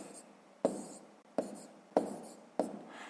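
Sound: writing numbers by hand

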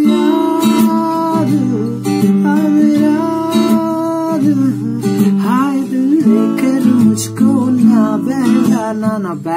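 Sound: acoustic guitar strumming chords

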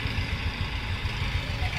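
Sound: tractor engine running at a farm field near Jaipur

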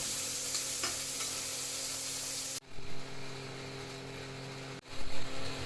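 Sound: shrimp frying and stirring in oil

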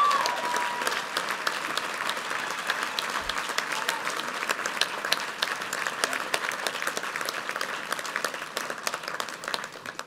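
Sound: commencement audience applause

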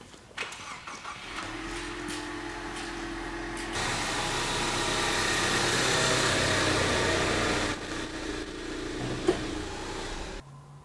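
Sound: Ford Mustang engine idling after being pulled in

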